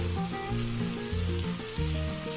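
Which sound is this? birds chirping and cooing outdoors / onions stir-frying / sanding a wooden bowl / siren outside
onions stir-frying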